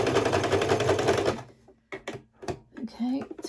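A domestic sewing machine runs a short back stitch on a fabric bookmark, a steady buzzing whir for about a second and a half before stopping, followed by a few soft clicks and a quiet voice.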